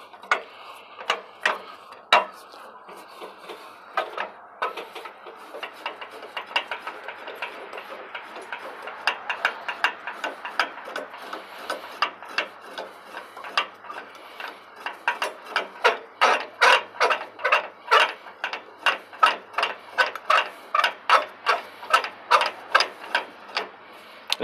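A Fastway Flip jack foot on a trailer jack folds up as the jack is cranked, giving a long run of quiet, close ratcheting clicks that start sparse and settle into a quick, regular rhythm.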